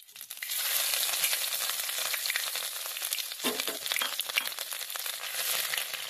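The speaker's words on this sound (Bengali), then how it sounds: "আদা কুচিগুলো দেওয়ার পর 1 মিনিট মতো ভেজে নিয়েছি" Crushed ginger fries in hot ghee and oil, a loud close crackling sizzle that jumps up as the ginger hits the pan and continues steadily, with a brief stir midway.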